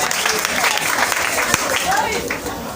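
A church congregation applauds and cheers after a testimony during a service: a dense, steady wash of clapping mixed with raised voices across the whole stretch.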